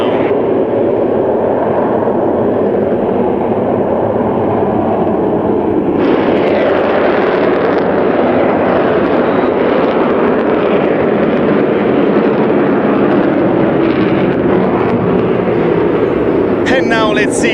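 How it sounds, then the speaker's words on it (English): Aircraft climbing at the Czech NATO Days air show, a continuous loud roaring engine wash that swells sharply partway through and holds steady, with crowd and commentary noise underneath. "Climbing back again as a conventional aircraft right now."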